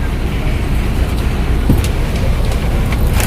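Steady broadband rumble inside a fairly new bus, heard from a seat in the cabin: a continuous engine and road drone at constant loudness with no talking.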